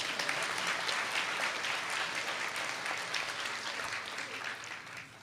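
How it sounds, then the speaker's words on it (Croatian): A live audience at a singing festival show applauds a co-host with sustained, dense clapping that stays loud and steady, then tapers slightly near the end. "A molim vas sada jedan veliki pljesak za moga kolegu voditelja Branimira"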